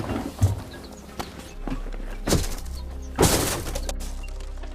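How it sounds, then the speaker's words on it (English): Fragmented double-glazed train window glass is pushed out with a bag, giving several crunching, crackling bursts of breaking glass spaced across a few seconds over a steady low hum. "push out the fragmented glass with any reasonable heavy item"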